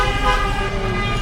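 Horns toot over a dense wash of engine noise in a jammed street in Dhaka near Baitul Mukarram, with overlapping horn tones sounding fairly close and steady throughout.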